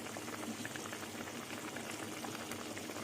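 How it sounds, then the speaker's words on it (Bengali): A pot of thin curry broth with potatoes simmering, a soft continuous bubbling hiss that stays even and fairly quiet throughout. "এবার কিছুক্ষণ ফুটবে"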